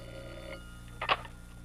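An old-time radio show's telephone bell gives a single short ring that stands out clearly over a quiet background hum, with no talking.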